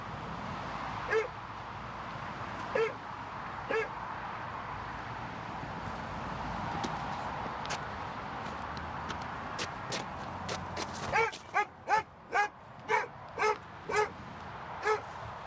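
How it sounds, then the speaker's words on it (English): Dog barking outdoors during a police attempt to evict home owners, with scattered barks early and a rapid run of loud, close barks near the end over steady background noise. "So the dog's barking."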